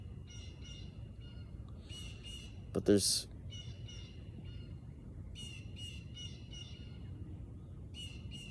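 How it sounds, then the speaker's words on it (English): Birds chirp outdoors in short, bright bursts of calls repeated throughout, over a steady low background rumble, with a brief moment of speech partway through. "I don't know why the birds continue to chirp whenever I try to speak."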